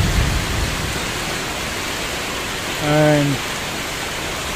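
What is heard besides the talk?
heavy rain in forest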